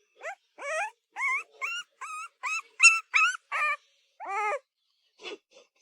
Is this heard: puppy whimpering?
yes